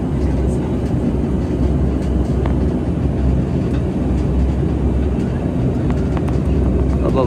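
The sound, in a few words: airplane taking off from Kathmandu on the runway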